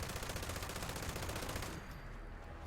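A bloodied fire-rate light machine gun in the video game Fallout 76 fires a dense, rapid, continuous burst for about two seconds, then cuts off, leaving a fading ringing tail.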